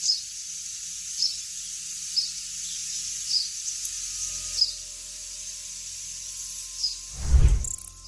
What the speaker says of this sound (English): hidden behind the drone of the data centers, there is birdsong